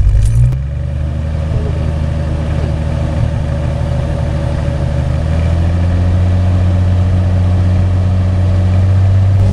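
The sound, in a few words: Jeep Cherokee engine starting and idling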